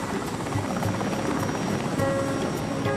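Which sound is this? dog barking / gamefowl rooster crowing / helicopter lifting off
helicopter lifting off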